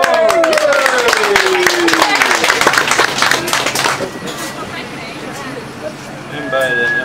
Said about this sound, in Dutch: En een applaus voor ons.